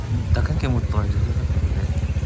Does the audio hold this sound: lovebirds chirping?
no